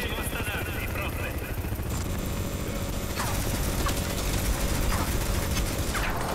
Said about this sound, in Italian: Là c'ho l'elicottero.